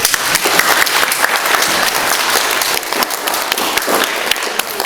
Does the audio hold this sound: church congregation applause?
yes